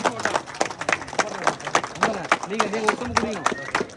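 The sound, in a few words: crowd clapping to cheer the opening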